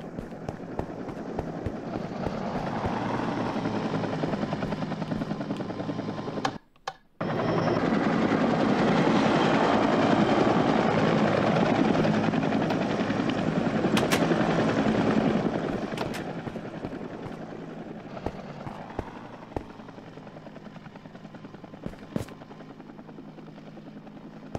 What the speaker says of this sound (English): I love the design for this helicopter. I love how they got the blades to turn.